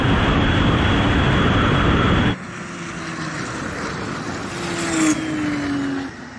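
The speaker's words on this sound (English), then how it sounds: "This turbo just keeps on boosting all the way. It doesn't drop off at all." A Porsche 964 911 Turbo runs flat out in a loud, dense engine roar, drops to a lower rumble as it shifts, then climbs again with a rising whine as boost builds.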